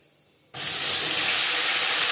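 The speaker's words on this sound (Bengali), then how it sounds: "4 চামচ রিফাইন্ড অয়েল গরম করে নেওয়ার পর দিয়ে দিলাম 1/2 চা চামচ গোটা জিরে" Half a teaspoon of whole cumin seeds hits four spoons of hot refined oil, bursting into a sudden loud sizzle that holds as a steady, close, bright hiss.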